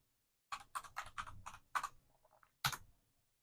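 A handful of quick, crisp keystrokes on a computer keyboard, close and clear, tapped in a short irregular burst followed by a single firmer key press after a brief pause.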